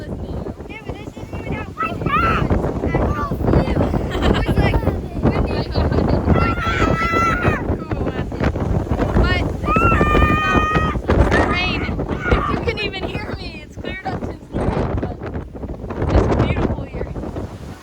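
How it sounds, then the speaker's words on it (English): Strong gusts on an exposed stretch of the Appalachian Trail in central Virginia batter the microphone with loud, roaring wind noise throughout, while people talk and exclaim over it. "And it is so windy."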